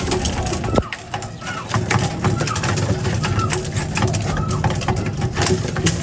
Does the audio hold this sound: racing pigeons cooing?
yes